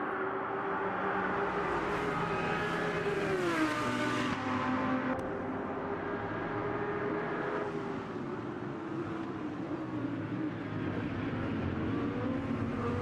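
Race cars in the game Motor Mania drive in a grouped pack while one tries to overtake, a steady blended engine drone with pitch sweeps as cars accelerate and shift, constant and moderately loud throughout, no voices.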